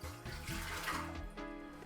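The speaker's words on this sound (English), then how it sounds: "Okay, we put 420 milliliters of water." Water poured steadily into the pan of a Moulinex Home Baguette OW610110 bread maker for a baguette recipe, a continuous close splashing trickle lasting the whole stretch with no talk.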